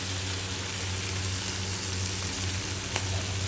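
Spice masala paste frying in hot oil in a pan, salt just added and stirred in, giving a steady, close sizzling hiss with a faint scrape of stirring throughout.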